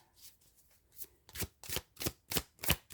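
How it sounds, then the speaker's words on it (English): A deck of cards is shuffled close by in a steady run of crisp riffling bursts, about six strokes growing louder and more regular toward the end, with no voices. "Because I'm shuffling and nothing is coming out."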